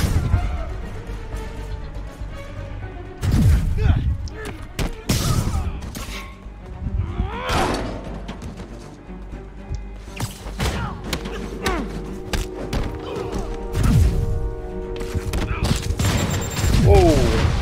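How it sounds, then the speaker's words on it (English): A rocket blast in a Spider-Man video game: heavy booming thuds and crashes burst out repeatedly amid layered game sounds and music, loud and close, with a few sharp impacts near the end. "Whoa, that was a rocket."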